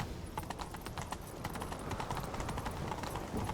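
Rapid hoofbeats of a galloping horse in The Witcher 3 thud in a steady rhythm, with game-like background noise throughout.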